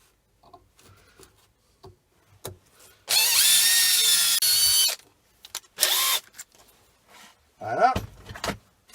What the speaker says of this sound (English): You give it a drill.